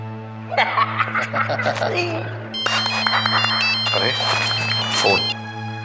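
An electronic phone ringtone plays a repeating melody over chuckling and talking, with a steady hum underneath.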